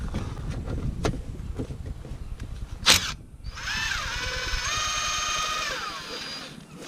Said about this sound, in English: just going to use a 14mm socket to undo the bolt here and one here